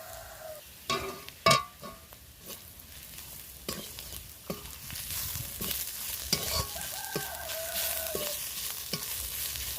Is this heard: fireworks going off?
no